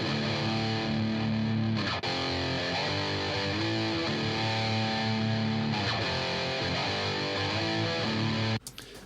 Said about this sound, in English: So you have your left guitar right here